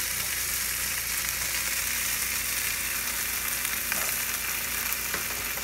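An egg frying on an electric cooktop gives a dense, even crackling sizzle, close and steady throughout with faint pops, no voices.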